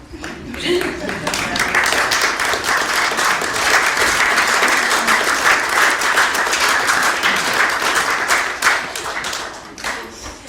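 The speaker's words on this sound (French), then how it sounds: "On peut applaudir." A room full of people applauds steadily, a dense wash of clapping that holds for about ten seconds before tapering slightly.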